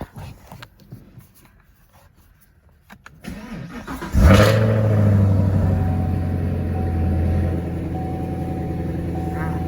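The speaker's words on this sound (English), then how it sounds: "They're gonna crank it up and get it ready, so that way it'll be warmed up for Carvana." A 2016 Chevrolet Camaro 2SS V8 cranks after a few quiet seconds of faint knocking, catches with a loud bark and rev flare, then settles into a strong, steady rumbling idle close by.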